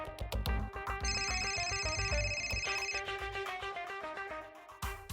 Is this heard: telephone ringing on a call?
yes